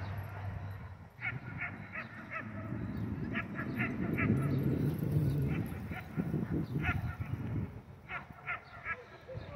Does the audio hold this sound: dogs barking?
yes